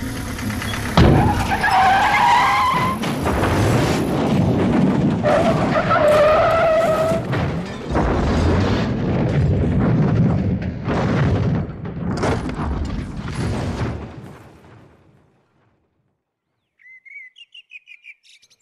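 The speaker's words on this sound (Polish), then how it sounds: "Autobus wiozący dzieci do szkoły spadł na dno wąwozu." Radio drama sound effect of a school bus skidding and crashing into a ravine: repeated loud tire screeches and engine surges in long bursts, fading out into silence, then faint bird chirps at the end.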